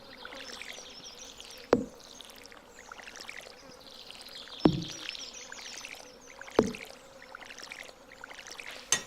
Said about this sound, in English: we will continue watering all of these lovely crops